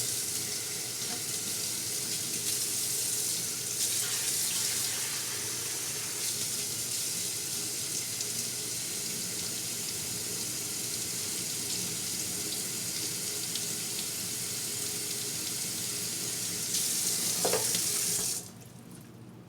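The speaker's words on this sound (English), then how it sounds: "I'm just gonna run water right through the pot," A sink tap runs water steadily through a potted orchid set in an airy bark mix, producing a continuous close hiss and splash for nearly twenty seconds before it cuts off abruptly near the end.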